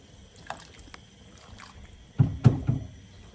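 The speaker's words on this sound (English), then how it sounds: "I'm going to give that a quick stir." A quick stir of freshly added onion and carrots in a soup pot for bean soup with collard greens and cabbage, heard as a few soft scraping, sloshing strokes close by, the loudest near the end after a quiet stretch.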